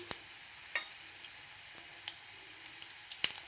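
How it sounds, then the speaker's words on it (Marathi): Cumin and mustard seeds frying together in oil, a faint low sizzle broken by scattered sharp pops and ticks at irregular intervals, close by and with no talking. "आता आपण जिरे आणि मोहरी एकत्र तळून घेऊया."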